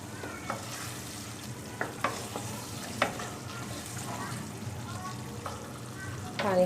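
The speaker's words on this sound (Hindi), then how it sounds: "पानी खुश्क हो गया है, अब मैं इसको भून लेती हूँ।" Potatoes, peas and carrots stir-fried in a pan once their water has cooked off, with a steady close sizzle broken by scattered spatula scrapes and clinks throughout.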